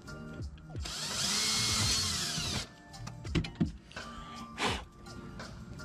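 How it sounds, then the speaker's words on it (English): A power drill whirs for a couple of seconds drilling mounting holes into a vintage camper trailer, then scraping, knocks and handling clatter follow, with a short second burst of the drill. "I had to drill new mounting points to the trailer."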